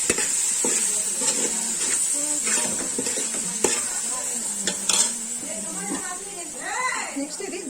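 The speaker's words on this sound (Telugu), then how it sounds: "ఇప్పుడు ఇదంతా బాగా ఫ్రై అవ్వనిద్దాం." Ground coriander and other spices fry in a pan for a home-cooked mutton biryani, giving a steady sizzle with scraping stir strokes and light clinks of utensils, while someone speaks over the cooking throughout.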